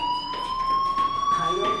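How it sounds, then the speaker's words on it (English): A fire alarm sounds in the video game Life is Strange, a steady high electronic tone held throughout, moderately loud with faint background noise and a voice briefly over it. "do you hear that fire alarm?"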